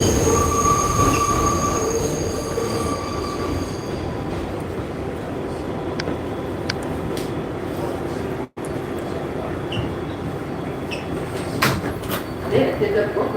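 A Brooklyn-bound New York subway train rumbles along the track with loud, piercing wheel squeals rising intermittently, a brief dropout midway, and a crowded underground car's noise throughout.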